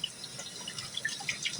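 Water runs steadily and quietly from the hot tap of a sink whose hot supply has failed and comes out cold, a soft continuous splashing with faint drips.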